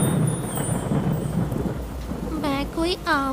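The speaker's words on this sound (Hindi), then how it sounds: "बारिश अब भी रुकने का नाम नहीं ले रही थी।" Steady heavy rain with deep rolling thunder in a Hindi animated story, loud and continuous, followed near the end by a few short bird-like chirps.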